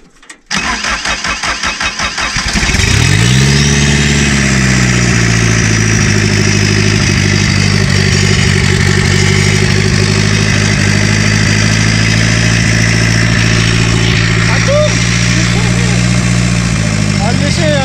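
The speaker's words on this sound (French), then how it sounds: "Il a jamais eu de ralenti à froid le moteur là." A buggy engine cranks with rapid starter chatter, then catches and settles into a loud, steady, slightly uneven idle on a frozen morning after a cold start, running close up for the rest of the time.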